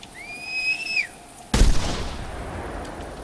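A single sharp gunshot at a pheasant in the hunting game theHunter Classic, loud and close with a lingering decaying tail, preceded by two rising whistle tones.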